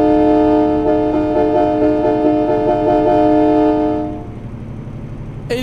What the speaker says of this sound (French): On va klaxonner sous le tunnel